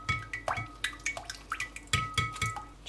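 Lemon being squeezed by hand into a dish for juice, giving a quick series of faint wet drips, squishes and small clinks in an uneven rhythm, close and without talk.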